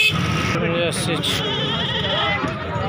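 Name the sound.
goat bleating at an animal market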